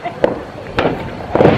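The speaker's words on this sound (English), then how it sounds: "we're gonna watch the fireworks. So they're popping at this moment" Fireworks pop outside on the Fourth of July, a few muffled bangs spaced about half a second apart under steady background noise.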